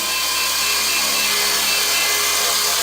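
A WLtoys V912 four-channel RC helicopter hovers nearby with a steady, high-pitched whirring rotor and motor hum, even in loudness from start to finish and with no voices.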